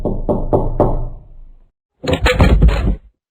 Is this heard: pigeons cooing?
no